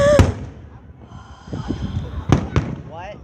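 Fireworks explode with several sharp, loud cracking bangs, one early and two close together near the end, while people talk over the blasts.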